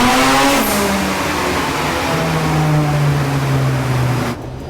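A Ford Sierra XR4i with a turbocharged Honda S2000 engine swap revs hard on a dyno, a loud, sustained close engine roar with the pitch rising and then falling, cutting off abruptly at the end.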